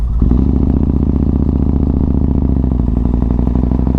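A Yamaha MT-01 motorcycle rides along, its big engine producing a loud, steady, deep throbbing drone that holds constant and close throughout, with no voices.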